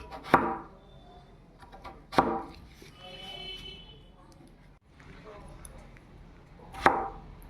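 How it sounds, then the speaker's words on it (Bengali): Peeled potatoes being cut into cubes with a knife on a board, giving three sharp, separate chops spaced a couple of seconds apart, close and clear, with quiet kitchen sounds in between. "এবারে আলুগুলোকে একটু ডুমো ডুমো করে কেটে নিচ্ছি"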